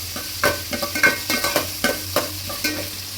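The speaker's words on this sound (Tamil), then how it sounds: "வெங்காயம் வதங்கிட்டு இருக்கு." Chopped onions sautéing with salt in a pan for a fish curry, as rapid spatula stirs and scrapes over a steady sizzle, close and clear, with no voices.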